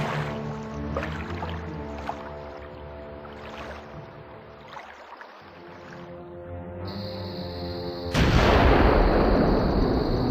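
Artillery gunfire in a German submarine battle scene of a radio drama: a few sharp bangs over a humming engine-room drone, then a loud burst of hissing noise near the end.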